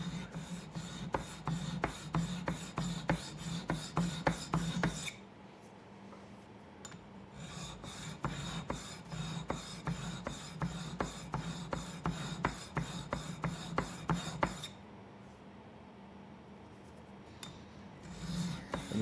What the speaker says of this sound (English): So we're just polishing.